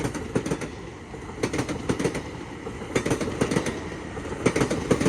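A New Jersey Transit train rolls past on a double set of tracks in Pennsylvania, its wheels producing rhythmic clacking bursts over rail joints against a steady rumble, fairly close and continuous.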